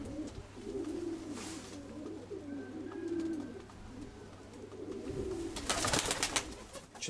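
Pigeons coo in low, throaty rolling calls close by, repeated in a steady rhythm, followed near the end by a brief burst of wing flapping or rustling.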